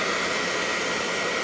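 A secondhand hair dryer blows with a steady, loud, breathy whir, close by and unbroken throughout.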